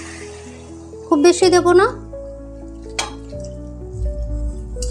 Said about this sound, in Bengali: এবার আমি এখানে গরম জল ব্যবহার করছি, গরম জল দিচ্ছি।